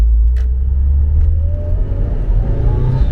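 Mitsubishi Lancer Evolution VII engine revving up to about 5,000 rpm before a gear shift on a midnight drive in Bangkok, a loud, steady, close in-cabin rumble with a rising tone and no talk.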